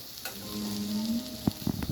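Chutney cooking in a hot pan, a soft sizzle under a low hum, broken near the end by a few sharp clatters of stirring; no one speaks.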